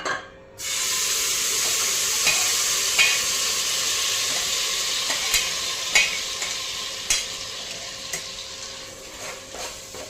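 Masala for egg biryani sizzles and fries in a pan while being stirred, a loud continuous hiss broken by repeated scraping and clinking strokes of the spoon, with no voices.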